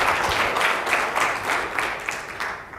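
Applause from the audience in a room at a TOGAF user group meeting, a moderate wash of clapping that slowly fades over a few seconds.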